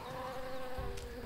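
A bee buzzing in the Tales of Monkey Island video game, a steady close drone with a wavering pitch that runs through the whole short moment, fairly quiet, with no talking.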